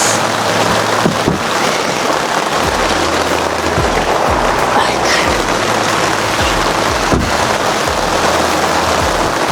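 Heavy rain pouring steadily at a rooftop tent campsite during a storm, a dense loud continuous patter drumming on the tent and surroundings, with occasional heavier thumps of drops.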